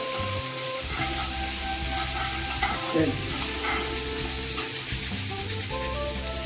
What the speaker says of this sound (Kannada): ಹಸಿ ಮೆಣಸಿನಕಾಯಿ ಚೆನ್ನಾಗಿ ಫ್ರೈ ಆಗಬೇಕು